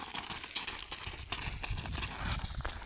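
Hooves of a Kathiyawadi mare clip-clopping at close range in a quick, uneven rhythm, with no talking.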